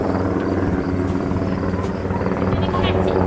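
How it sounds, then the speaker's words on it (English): Cyclone military helicopter passing overhead, a steady loud rotor and engine roar that swells slightly as it nears, with speech faintly underneath. "It's a cyclone. It'll come right over you."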